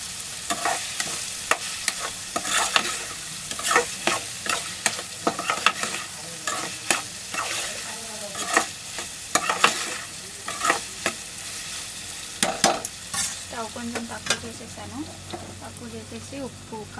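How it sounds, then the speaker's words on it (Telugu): Meal maker soya chunks and potatoes seasoned with chilli powder and turmeric frying in a pan, a steady close sizzle broken by frequent scraping clicks of stirring, with no talk. "మంచిగా ఫ్రై చేసుకుంటున్నాను"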